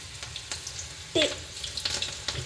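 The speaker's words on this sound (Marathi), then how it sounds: "तेल आपलं एकदम तापलेलं आहे आणि आपण त्याच्या आता टाकणार आहे भजी" Cabbage bhaji fritters fry in very hot oil with a soft, continuous crackling sizzle, while light clinks and scrapes come and go and one brief sharper clatter stands out near the middle.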